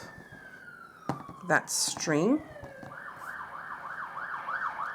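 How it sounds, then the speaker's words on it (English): A distant emergency vehicle siren near a main road wails and yelps, shifting to a steady rising-falling pattern, while someone speaks briefly with close clattering handling noises. "Please excuse the sirens. I live near a main road."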